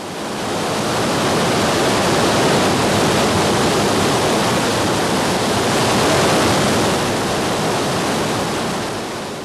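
Loud, continuous roar of the Ganga's rushing whitewater in the Bhagirathi stretch, a broad steady wash that swells slightly midway and stays close throughout, with no voices.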